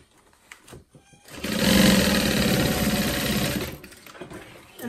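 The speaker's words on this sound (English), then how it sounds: "it's just a really easy straight" Sewing a straight seam on a crossbody bag, a sewing machine whirs in one steady run of about three seconds, close and prominent, framed by light handling noises before and after.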